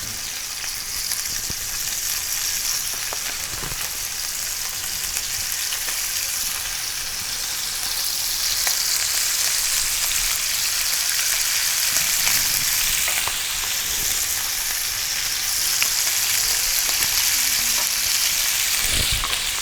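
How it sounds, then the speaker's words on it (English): Pork searing in a crowded pan before going into a chicken stew, a steady loud sizzle running throughout with a few faint clicks of the pan and no talking. "I like to get a really quick sear on my pork and then go into the soup."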